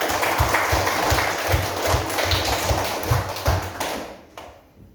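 A group claps in rhythmic unison, a steady beat of roughly two claps per second, close and loud before it trails off and stops near the end.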